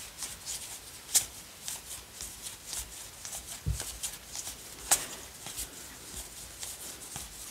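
Oracle cards are handled and sorted close up, with a continuous soft papery shuffle and rustle broken by occasional sharper flicks and slaps as cards are moved.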